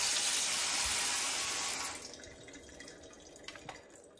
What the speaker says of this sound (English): you're going to want to go ahead and give them a good rinse